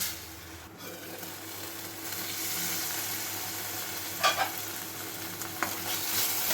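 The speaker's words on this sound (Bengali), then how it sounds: "বিরিয়ানি মশলাটাকেও আমি একটুখানি কুক করে নেব" Biryani masala paste with a little water cooking in a pan, a continuous soft sizzle under occasional scraping stirs and a couple of sharp utensil knocks, no talking.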